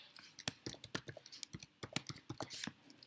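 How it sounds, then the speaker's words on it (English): Quiet, quick clicking of keys on a computer keyboard as text is entered into a field, with an irregular rhythm of light taps and a few slightly sharper strokes, close and soft with no talking. "what you are typing in the text field"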